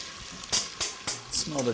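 Ginger sizzling in butter with chestnuts in a soup pot, heard as soft crackling and short sizzling bursts beneath a voice that talks throughout.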